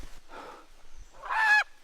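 A chicken clucking and squawking nearby, two short calls with the second louder and harsher, alone without speech.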